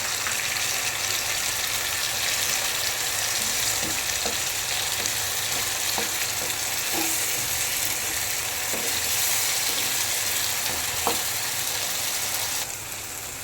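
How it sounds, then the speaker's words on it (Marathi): Onion and ginger-garlic paste sizzle steadily and loudly in a pan, with scattered light stirring taps and clinks over the constant frying hiss, then a slight drop near the end, with no voices. "कांदा मस्त फ्राय झाला आता ही अद्रक लसणाची पेस्ट टाकून घेऊया"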